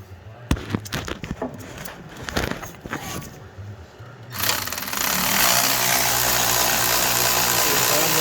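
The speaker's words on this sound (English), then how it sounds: "so I just got my electric ratchet real quick" An electric ratchet drives a socket during rear suspension work on a 1984 C4 Corvette, with bursts of clicking and metallic handling at first, then a loud steady whirring buzz that runs on to the end.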